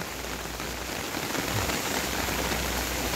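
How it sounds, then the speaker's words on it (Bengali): Heavy, steady monsoon rain in Sylhet, Bangladesh, during the 2024 floods pours down without pause, a dense broadband hiss of drops hitting surfaces, loud and close throughout. "প্রচণ্ড বৃষ্টি হচ্ছে গত রাত থেকে, একটানা বৃষ্টি হচ্ছে"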